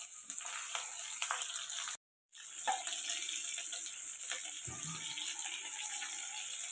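Ginger and green chillies fry in a pan for semiya upma, giving a steady, close sizzle broken by a brief pause partway through, with no talking.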